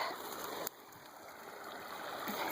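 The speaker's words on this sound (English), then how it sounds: "Pretty little creek." A small creek flows along a wild, overgrown edge, giving a steady soft gurgle and rush of running water that stays close and fairly even, with a brief sharp rustle near the start.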